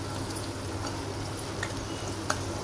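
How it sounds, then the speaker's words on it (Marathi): Garam masala sizzling and frying steadily in a pan over low heat, a continuous close crackle with a few faint clicks and scrapes of stirring. "त्यामध्ये अर्धा चमचा गरम मसाला टाकणार आहोत। ते चांगलं परतून घ्यायचं।"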